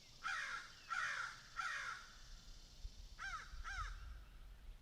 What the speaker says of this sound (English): these crows are going absolutely ham